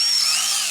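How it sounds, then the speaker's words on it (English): A power drill bores a hole through a knot in a wood stick for a chicken treat toy, giving a steady, close, high-pitched whine that holds evenly for under a second with no talk. "just drill a hole."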